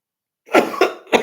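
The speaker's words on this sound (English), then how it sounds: "I got a cough, man." Three quick, close coughs in a row after a moment of silence, loud and harsh.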